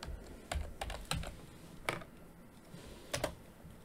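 Quiet, irregular bursts of typing on a computer keyboard, a few separate clusters of clicking keystrokes with short pauses between, close and alone.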